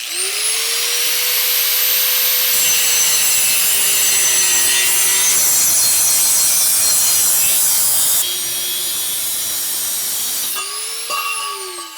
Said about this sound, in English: I got to use the old cutoff wheel for this because I can't get it in the saw there.